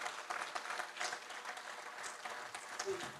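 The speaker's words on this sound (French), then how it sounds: "applaudissez pour ce grand monsieur" Audience applause for a speaker at a public address in Montreuil, a steady, fairly faint wash of clapping from a crowd that carries on throughout without a break.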